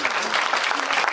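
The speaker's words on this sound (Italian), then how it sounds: "Vi ringrazio dell'applauso spontaneo che state per fare." Applause from an audience at a folk festival, a short burst of dense, steady clapping from many hands, with a faint murmur of voices beneath it.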